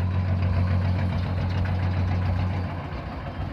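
A small diesel farm tractor engine idles close by during a system test, a steady, throbbing low chug that eases slightly quieter toward the end.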